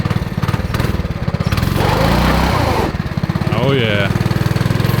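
A homemade $50 go kart engine runs close by with a loud, pulsing small-engine putter that revs up briefly, while a person speaks over it.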